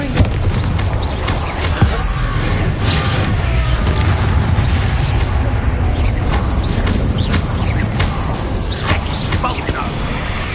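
Repeated booming spell blasts from Confringo in Hogwarts Legacy roll through a dense, continuous wash of in-game noise, with a voice talking over the action.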